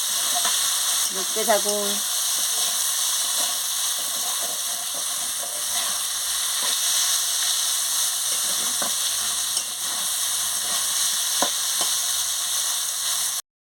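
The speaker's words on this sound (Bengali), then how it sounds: "এবারে ভালো করে আমি এটাকে ভেজে নেব, চিচিঙ্গাটাকে।" Snake gourd (chichinga) fries steadily in hot oil with a continuous bright sizzle, broken by faint stirring scrapes and a brief spoken line near the start.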